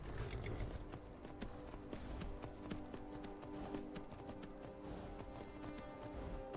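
Horse hooves clip-clopping at a gallop in Skyrim, a steady rhythmic beat running throughout over game music and ambience, close and moderately loud.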